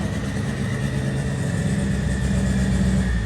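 A car engine on a dyno roars at high revs, a loud continuous drone building slightly in intensity over a few seconds, with no talking.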